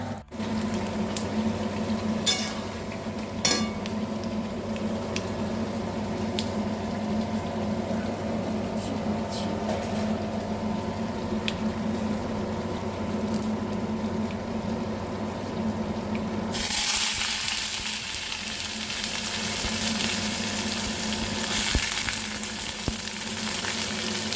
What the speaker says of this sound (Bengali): শুকনো লঙ্কা আর কালো জিরে ফোড়ন দিয়ে বানাই।